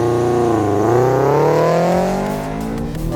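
A Toyota 86 or Subaru BRZ launches hard from a standstill on a race track, its engine note loud and close, climbing steadily in pitch as it revs before easing off near the end.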